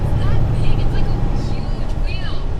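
A vehicle driving down a road near a hydro power plant, heard from inside as a loud steady engine and road rumble, with a voice talking over it.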